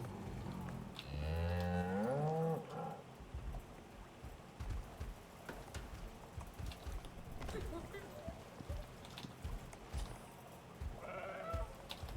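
Sheep bleat in the survival video game Icarus, a loud wavering call at the start and another near the end, with voices talking throughout.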